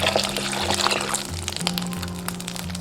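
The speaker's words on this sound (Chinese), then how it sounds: "把猪皮掰成小块，加入清水浸泡5分钟" Clear water pours steadily into a bowl of broken-up dried pork skin pieces, making a continuous close splashing gush that lasts a few seconds, with no talking.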